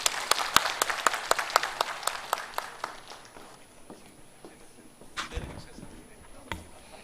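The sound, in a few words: audience applause for conference speakers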